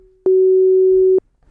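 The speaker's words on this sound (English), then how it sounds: "that is the sound of 2 operators playing perfectly in sync 2 sine waves" Yamaha DX7 FM synthesizer with two operators sounding identical sine waves perfectly in sync, a single pure steady tone held for about a second with abrupt start and stop, alone.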